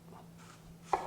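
A kitchen knife trims a soft spot off a fresh apple, giving a single soft cut and thud near the end of an otherwise quiet moment with a faint steady hum, close by.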